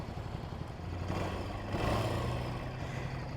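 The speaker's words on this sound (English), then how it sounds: "sitting here at a red light, can you guys hear that little whistle in the engine?" A 2020 Ducati Scrambler Sixty2 400 engine idles at a red light with a low, steady rumble and a faint thin whistle riding above it, swelling slightly in the middle before settling back, with no talk.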